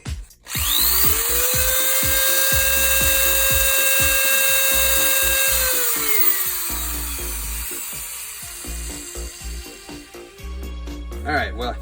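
Electric drill used to apply ink for art, a steady motor whine running loud and continuous for about six seconds, then winding down as the pitch drops, with handling clatter and knocks afterward.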